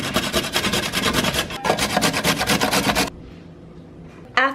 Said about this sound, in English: So the first step is to grate your carrots like this.